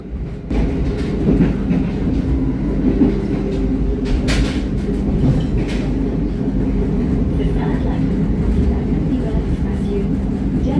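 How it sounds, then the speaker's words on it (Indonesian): The Mataram passenger train rumbles out of Jatinegara station with a steady low roar and occasional rail clatter, loud and continuous throughout. "kereta Mataram meninggalkan stasiun Jatinegara"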